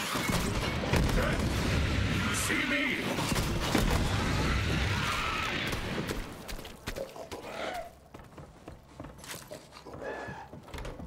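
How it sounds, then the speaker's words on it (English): A rocket launcher fires in the Borderlands 3 shooter game, with booming blasts and rumbling explosions over dense game noise that fade toward the end. "Love that rocket launcher."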